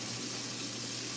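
Hot water runs steadily from a kitchen tap, a continuous close hiss of flowing water with no pauses, heard alone.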